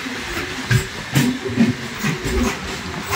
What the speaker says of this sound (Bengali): ফাইনালি ডিপার্চার করলো জলেশ্বর রেল স্টেশনের 3 নম্বর প্ল্যাটফর্ম থেকে আমাদের জলেশ্বর পুরী মেমু লোকাল